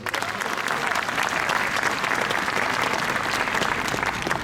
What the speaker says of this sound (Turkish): Alkışlarımız bakanımız olsun